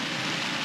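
Rain falls steadily on a camping tent at a riverside car campsite in Tanay, Rizal, a dense even patter with no talking.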